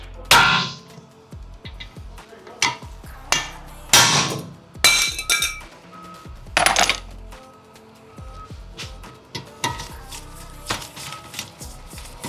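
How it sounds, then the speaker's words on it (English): A hammer strikes an impact screwdriver fitted with a T40 bit on a rear brake bolt of a 2006–2009 Ford Fusion. About a dozen sharp metallic clangs ring out at uneven intervals, loud and close, with no talking. "we're gonna have to use an impact hammer or impact screwdriver, but we're gonna use a T40 hex"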